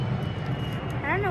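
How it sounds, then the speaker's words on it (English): A loud airplane flies overhead, its steady broadband roar and low rumble filling the whole stretch, with a brief tonal, voice-like sound rising over it near the end. "there's an airplane going over us. It's very loud."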